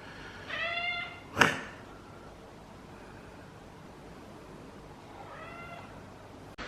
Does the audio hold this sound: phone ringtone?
no